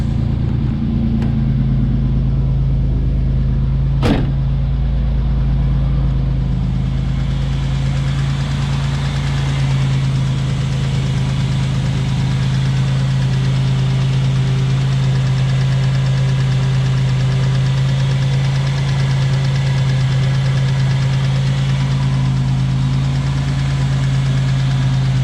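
A 1987 Buick Grand National idles steadily after a two-stage air/oil separator install, a loud, close, constant low rumble with a single sharp click near the start and no speech.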